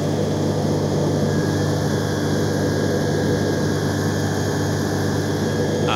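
Ultralight aircraft flying over the Camargue, a steady droning engine hum with constant tonal buzz, loud and unbroken throughout without any voices.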